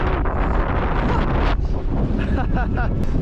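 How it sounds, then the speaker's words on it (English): Strong wind on a hilltop buffets and roars across the microphone continuously, loud and close, with faint voices briefly audible beneath it. "It is so windy up here."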